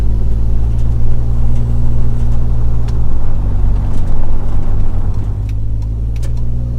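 Steady low rumble of a Jeep Wrangler cabin on the move after sound deadening, continuous road and engine drone with faint occasional rattles and ticks, no talking.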